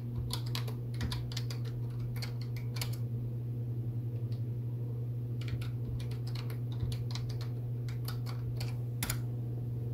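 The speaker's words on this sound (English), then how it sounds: "And you just type in your password." A password is typed on an old computer's keyboard: a steady run of light, close key clicks in uneven bursts over a constant low fan hum.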